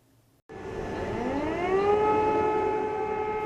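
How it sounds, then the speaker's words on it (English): An air raid siren wails over Kyiv, the Ukrainian capital, starting abruptly and rising in pitch before holding a loud, steady, sustained tone. "An air raid siren to start the day in the Ukrainian capital."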